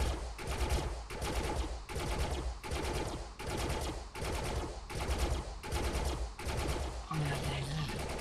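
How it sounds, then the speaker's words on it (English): Light machine gun in the video game Defiance fires in repeated sustained bursts of roughly a second each, with short pauses between them, loud and close, plus a brief electronic tone near the end. "Level up my light machine gun as well."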